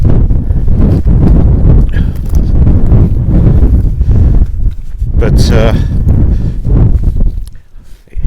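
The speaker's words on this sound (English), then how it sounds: "it's very exposed, very windy" Strong gusty wind on an exposed moor buffets the microphone with a loud, continuous low roar, while a person speaks over it close by.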